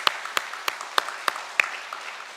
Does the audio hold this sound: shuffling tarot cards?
no